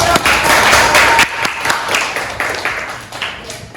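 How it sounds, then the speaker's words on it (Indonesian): Applause from an audience at an Indonesian workshop on prompt engineering for content creation, a loose round of clapping with scattered sharp claps that thins out toward the end. "beri tepuk tangan dulu"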